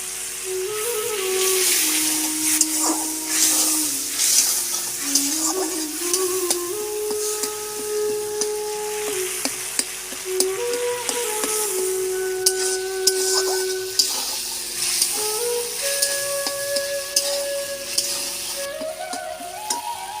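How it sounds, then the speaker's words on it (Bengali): Ginger and green chilli spice paste frying in oil for a green banana kofta curry, giving a steady close sizzle with occasional spatters, partly masked by melodic background music throughout. "মশলাটা আমার কষানো হয়ে গেছে, দেখুন পুরো তেল ছেড়ে দিয়েছে।"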